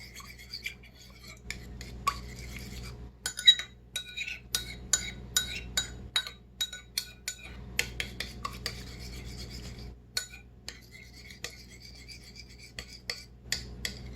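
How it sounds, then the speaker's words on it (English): A spoon stirs yeast into warm water in a bowl, making a run of light, sharp clinks and scraping taps against the side, faint and close, with no talking. "I'm going to put in 1/4 teaspoons of the yeast and then stir that in."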